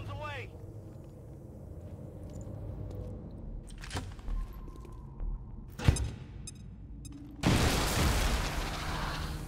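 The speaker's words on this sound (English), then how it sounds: "we're just going to stick the frag on their head" A frag grenade in XCOM 2 bursts and blows a hole through a wall, heard as a loud broadband blast near the end after several sharper thuds and clicks, with a quiet rumble underneath.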